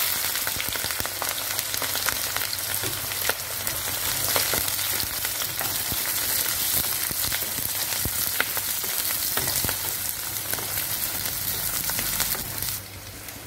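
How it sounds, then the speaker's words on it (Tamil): Onion, garlic and green chilies sautéing in hot oil in a pan with fenugreek, cumin and mustard seeds for vatha kuzhambu, a continuous close, loud sizzle with occasional stirring scrapes, no talking. "பூண்டு, பச்சை மிளகாய் போட்டு வதக்கிக்கலாம்."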